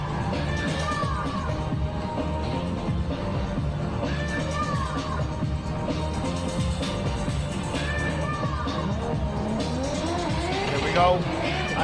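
Cars drift at the 2025 Gassed On Track event in a drift limbo contest, with rising and falling tire squeals over steady engine roar. Crowd noise and an announcer's voice run throughout.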